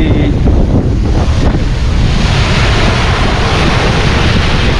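Rough Red Sea waves breaking on a rocky shore with breakwater stones, a continuous loud roar of surf mixed with heavy wind buffeting the microphone.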